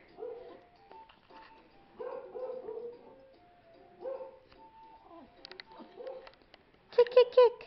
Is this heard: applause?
no